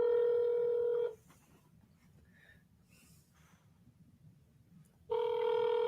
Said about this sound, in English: Let's see if your buddy is even going to pick up the phone.